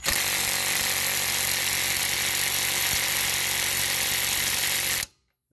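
A Ryobi P235 impact driver hammers continuously on a lug nut, a loud, dense rattling burst lasting about five seconds before cutting off abruptly into silence.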